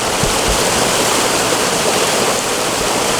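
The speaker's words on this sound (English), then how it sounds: "the white noise from that river" A river rushes past a campsite in a loud, continuous broadband roar of flowing water, close by and steady, with no voices.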